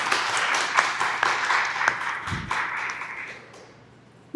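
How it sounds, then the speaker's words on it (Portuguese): Audience applause at a public urban-planning talk in Boa Vista, Roraima, a steady mix of individual claps that thins and fades out over several seconds, ending with a soft thump. "gostaria de uma salva de palmas para o Elcio Júnior."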